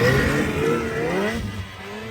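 A snowmobile engine revving hard, loud and close, its pitch climbing in rising sweeps before easing off slightly toward the end.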